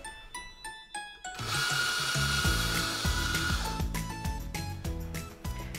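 An espresso coffee grinder grinding coffee, starting with a few sharp clicks and knocks, then a loud close whirring burst of grinding with rhythmic mechanical clatter running to the end.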